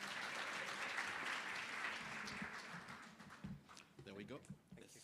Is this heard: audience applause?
yes